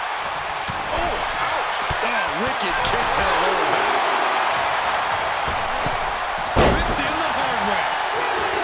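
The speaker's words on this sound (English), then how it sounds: "Slammed on the apron, crashing to the floor." In WWE 2K23, a wrestler is slammed onto the ring apron with a single heavy thud near the end. It lands over steady crowd noise and ongoing commentary voices.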